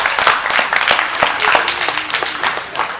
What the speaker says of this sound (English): Give him a hand clap though.